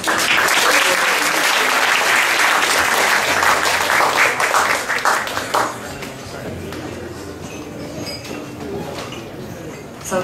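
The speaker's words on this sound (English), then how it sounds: "please give them a round of applause for the next." Banquet guests applaud with loud, dense clapping for several seconds that gradually fades and thins into scattered claps and low room murmur.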